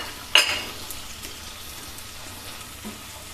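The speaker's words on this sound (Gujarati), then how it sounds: "હવે આ ટમેટાનું નાનું કટિંગ કરેલ છે એ પણ હું એમાં એડ કરી દઉં છું." Chopped tomatoes drop into a hot pan for ragda chaat with a brief sharp splash, then a soft steady sizzle continues underneath.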